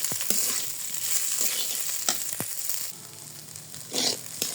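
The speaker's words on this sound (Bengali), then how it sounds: "এবার চিড়াটা দিয়ে দিলাম, সুন্দর করে মশলাটার সঙ্গে মিশিয়ে নিব।" Flattened rice (poha) fried and stirred with spices in a pan, a soft steady sizzle broken by a few scraping strokes of a spoon, close and moderately loud, with no talking.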